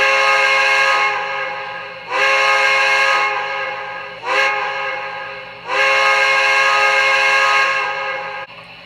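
A model steam locomotive's whistle, on an MTH Premier B&O Heavy Pacific, blows the crossing signal in a long-short-short-long pattern: four loud, sustained blasts, the third one brief, with a faint mechanical hum underneath.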